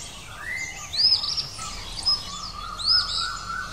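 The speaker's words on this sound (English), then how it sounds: "Kingfisher." A kingfisher calling: a few shrill, high chirping notes in short bursts over a faint background hiss, fairly close, with no talk.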